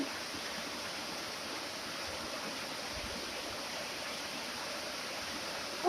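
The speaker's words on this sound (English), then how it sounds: "I don't need to water the plants today. Thank you so much, rain." Heavy rain pouring on a farm in Bohol, Philippines, a dense, steady hiss that stays loud and unbroken throughout, with no voices.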